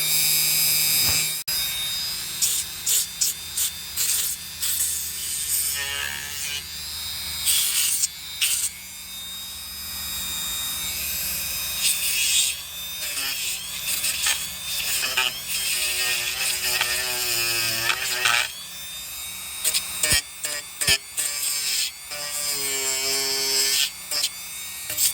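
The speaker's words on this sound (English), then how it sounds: "die grinder it down just a little bit, like this. Gonna make a mess" A die grinder buzzes and whines in bursts as it grinds away foam filler and rotted wood on a damaged door repair, loud and close, its pitch rising and falling with load and short pauses between passes.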